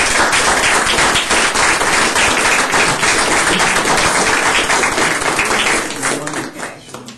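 Audience applause at a school board meeting as School of Inquiry members stand, dense sustained clapping from a crowd filling the room, steady for about six seconds before thinning out and fading.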